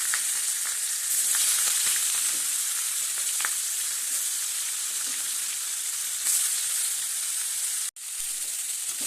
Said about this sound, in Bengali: তেল ভালো করে গরম হয়ে গেছে, এবার মাছের মাথাটা দিয়ে দিব।